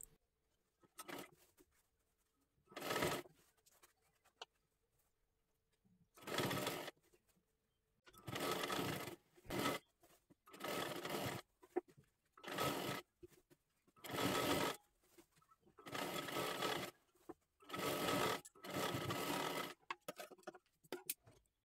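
A sewing machine stitches a one-piece Kathpadar saree dress for a 9-10-year-old girl in repeated bursts of fast mechanical whirring, each a second or two long, separated by quiet gaps, close and clear with no talking.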